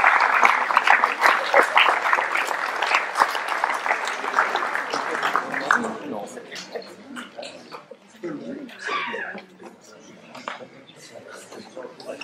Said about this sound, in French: On peut applaudir Jacques